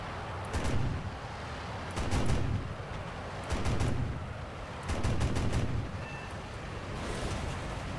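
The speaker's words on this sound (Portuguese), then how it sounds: "Só com canhão de 37" Bursts of 37 mm cannon fire from a MiG-15 jet in a flight combat video game, four loud rapid volleys about a second long, evenly spaced over steady engine roar.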